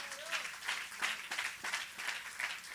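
Church congregation applause during a sermon, faint and somewhat distant, with rhythmic surges of clapping pulsing roughly every third of a second, a few scattered voices beneath.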